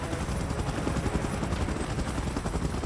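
A helicopter in PUBG Mobile churns with a dense, steady whirring roar, rotor pulses beating rapidly and evenly at moderate loudness, with no talk over it.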